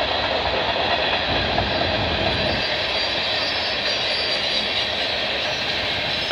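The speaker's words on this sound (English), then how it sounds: "I'm probably just gonna go catch this train and head home" A CN freight train rolls past on the rails near Burlington Junction, Oakville, making a loud, steady, continuous rumble and roar of wheels on track that holds level throughout, with no voices.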